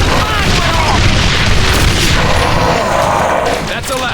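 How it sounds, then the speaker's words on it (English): Continuous booming artillery bombardment from the shooter game The Bureau: XCOM, a loud, dense barrage of overlapping explosions and gunfire that rumbles steadily for the whole stretch before easing slightly at the end. "Bombardment now! Ordnance inbound! Hit it hard!"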